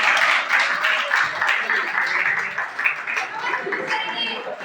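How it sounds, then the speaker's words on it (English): An audience of students claps steadily for a fellow student at a freshers' welcome event, the applause dense and fairly close with some chatter and laughter mixed in. "Come on guys, clap for her."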